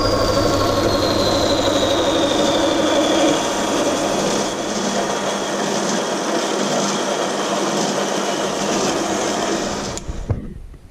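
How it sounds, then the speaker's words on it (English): Bandsaw cutting a soldered aluminium test piece in half on a holding fixture, giving a steady loud motor whine and grinding hum that runs continuously, then cuts off abruptly near the end. "I've just set it up on my special bandsaw holding fixture and I'm going to cut it in"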